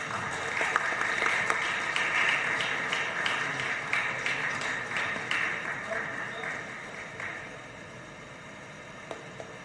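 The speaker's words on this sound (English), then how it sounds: "A round of applause, please." An audience at a book release event breaks into applause, a steady wash of many hands clapping that slowly thins toward the end, with some background noise beneath it.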